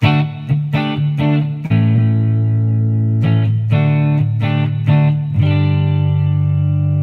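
Electric guitar notes and chords ring out through a Headrush Gigboard effects unit into an amp, sustained and washed in reverb, with a few sharp plucked attacks and long decaying tails.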